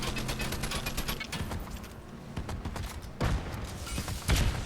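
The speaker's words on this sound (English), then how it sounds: "They're shooting at me." Video game gunfire sounds as rapid, dense volleys of shots over a steady din, with heavier bursts arriving toward the end.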